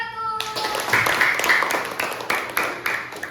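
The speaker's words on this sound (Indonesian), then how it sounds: "Tepuk tangan untuk kelompok 1." Schoolchildren in a classroom clap for a group of classmates after a brief spoken voice, with sharp, close, uneven hand claps that swell and then taper over a few seconds.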